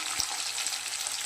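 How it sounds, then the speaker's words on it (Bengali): Potatoes fry in a pan with cumin and chopped onion, making a brief, continuous sizzle with light crackles and no talking. "তারপর দিচ্ছি আলুটা"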